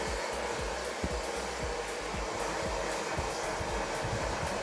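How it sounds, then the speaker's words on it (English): A hair dryer blows hair dry after brushing, a loud, continuous close whoosh with a low rhythmic fluttering as the airflow moves, no voices. "Once again, I brush through and then blow dry."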